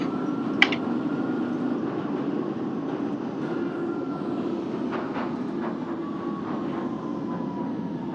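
A Central Line train in a BVE simulator game rolls into Liverpool Street, giving a steady low rumble with faint tonal whines and a brief click near the start, heard alone at moderate volume.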